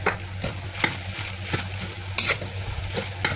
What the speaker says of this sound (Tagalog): Haluin lang ng haluin hanggang sa maluto